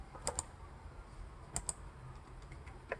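Computer keyboard keys pressed in a few separate pairs of crisp clicks, close and quiet, with pauses between them and a faint hum underneath.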